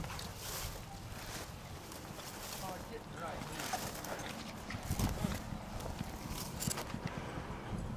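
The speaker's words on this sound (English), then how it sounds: "she is riding a horse" A ridden horse's hooves clip-clop in an uneven walking rhythm, faint and somewhat distant, under a voice talking.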